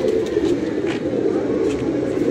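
Pigeons kept by a fancier coo softly and steadily, a low continuous murmur of several birds close by with faint rustling above it and no talk.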